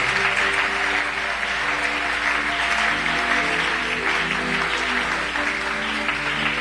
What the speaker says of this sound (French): Est-ce que nous pouvons acclamer pour le roi de rois, le Seigneur de seigneurs?